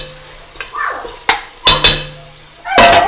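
Chicken and masala frying in oil in a pot for biryani, with a spoon scraping and clanking against the pot in a few sharp strokes over a light sizzle.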